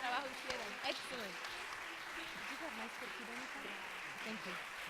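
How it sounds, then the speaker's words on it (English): Audience clapping for artists gathering on stage at an arts event, a steady wash of applause with voices talking and calling out over it. "Clap them up, clap them up."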